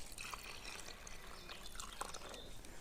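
Pond water being poured, a faint, steady trickle and splash with small drips, heard alone at close range during carp fishing preparation.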